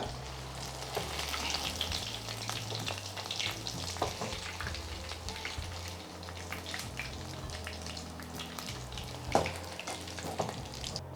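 Boneless chicken 65 deep-frying in hot oil with curry leaves added, a steady crackling sizzle with bubbling and occasional stirring clinks, close and continuous without talk.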